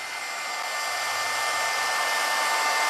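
A heat tool blows a steady, loud hiss of hot air while drying high heat embossing powder in a craft setting, continuous and unbroken throughout.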